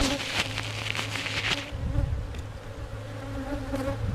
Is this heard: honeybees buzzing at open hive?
yes